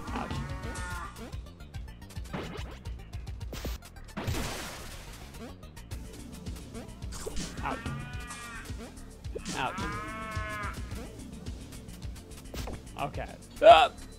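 A cartoonish cow moos several times in the Pizza Tower video game, mixed with game sound effects, a thump and a sharp hit near the end, with a player chattering throughout.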